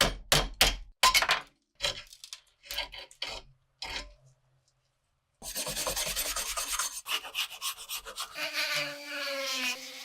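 Rust is stripped from a World War II Nepalese Gurkha kukri blade with rhythmic rasping scrapes in short bursts, a pause, then a sustained harsher grinding buzz like a spinning wire wheel, close and loud.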